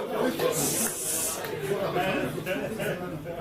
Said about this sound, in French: je vais mélanger un petit peu le jeu